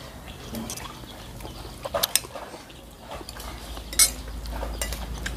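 A metal spoon clinks against a dish while someone eats hot rice and side dishes, a few sharp close chinks over a low background murmur.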